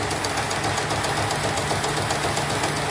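Embroidery machine (model M31) running steadily on test after its main board and blown power supply were replaced, a continuous mechanical hum with fast even knocking pulses, close and alone.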